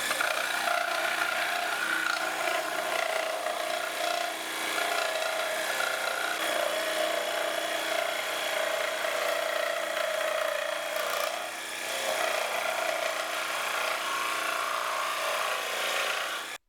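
A cordless jigsaw cutting through PVC pipe while building a bird feeder: a steady buzzing, rasping saw whine runs almost unbroken for about sixteen seconds, with only slight dips in intensity.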